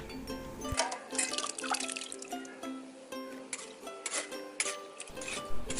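Cooked sago pearls are strained to drain off their water, giving a soft, close trickle and dripping with light clinks from the strainer. The sound stays quiet and steady throughout.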